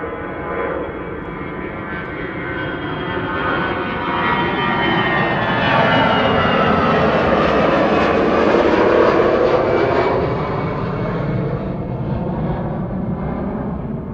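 A Finnair Airbus A320 jet takes off at Amsterdam Schiphol, its engine roar loud and continuous, swelling toward the middle as it passes and then easing slightly.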